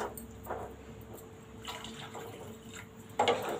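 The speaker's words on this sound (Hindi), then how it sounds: "इसमें हम 2 ग्लास पानी दे रहे हैं।" Two glasses of water splash and pour into a cooking pan of thukpa vegetables in a few short bursts, with a louder gush near the end.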